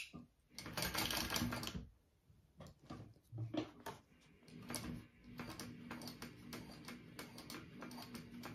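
A sewing machine stitches a seam with a 3/8 inch allowance on fabric for a triple zip crossbody bag. There are quiet bursts of rapid mechanical stitching with short pauses and handling clicks between them, close and faint, with no talking.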